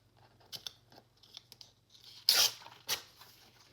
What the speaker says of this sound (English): I'm just going to tear it off about right there.